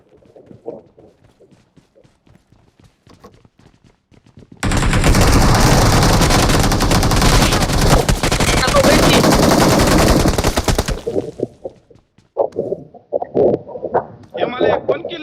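A shotgun fires in a video game as a loud, dense burst of gunfire that lasts several seconds. Speech comes before and after it.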